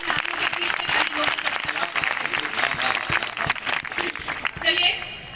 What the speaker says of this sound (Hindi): तो चाहती हूँ एक बार पूरा पंडाल मिलकर ताली बजाए